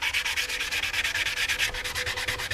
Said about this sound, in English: we'll get busy sanding these out